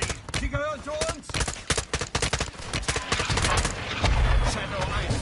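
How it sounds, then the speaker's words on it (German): In Call of Duty Modern Warfare 2, mercenaries shoot up a bridge with dense, rapid bursts of automatic gunfire and heavy impacts, loud and close, with a brief voice early on and a deeper rumbling barrage at the end. "Die angeforderten Söldner ballern die Brücke kaputt"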